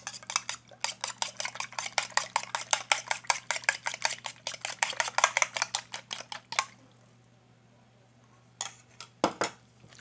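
Batter for shrimp and squid potato fritters gets whisked in a bowl, a fast run of rhythmic utensil clinks against the sides that stops abruptly, then a few last taps.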